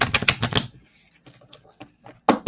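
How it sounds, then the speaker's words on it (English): A deck of cards is shuffled close up with quick crisp riffling bursts, a pause with a few scattered taps and flicks, then another riffle, with no speech over it. "I can use the cards. I don't really need them, but I'm going to shuffle them"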